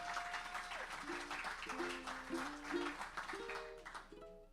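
An audience clapping for a young performer after a song, a faint stretch of steady applause with voices speaking over it.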